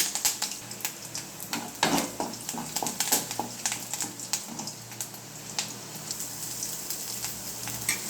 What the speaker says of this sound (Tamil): வானல் வச்சு எண்ணெய் ஊற்றியாச்சு பச்சை கடலைப்பருப்பு போட்டு கொஞ்சம் நேரம் பொறிஞ்ச உடனே